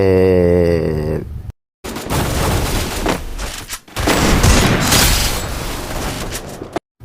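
Dense gunfire from a sniper-style battle in the mobile shooter Free Fire, loud and continuous bursts after a short tonal intro and a brief silent gap, with a near cut just before the end.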